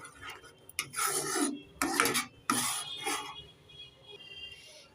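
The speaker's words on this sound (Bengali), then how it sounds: "ভালোভাবে ডালটা সেদ্ধ হয়ে গেছে একটু নেড়ে ছেড়ে দিয়ে দেব" A spoon stirs boiled lentils (dal) in a pot, giving a few close, scraping and clinking strokes in quick succession before fading to quiet.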